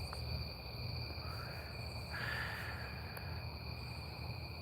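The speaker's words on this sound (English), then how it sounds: "Crickets around me." Crickets chirp steadily at night, a thin continuous trill layered with other insect tones over a low background hum, faint and distant with no voices.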